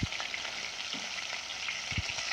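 Chicken pieces fry in oil until golden, a soft steady sizzle with a few low knocks from the pan, fairly quiet and close with no talking.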